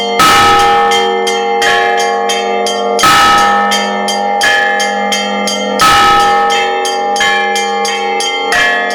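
Church bells ring loudly at a bell-ringing art festival in Volyn, Ukraine, with several bells of different pitches struck in repeating rhythmic melodic patterns, ringing on without voices.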